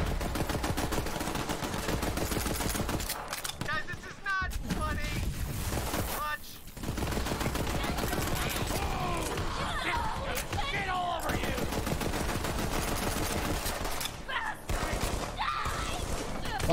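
Rapid hip-fired gunfire from the video game Borderlands 3, dense bursts of shots and chatter running continuously under loud game noise and people talking throughout.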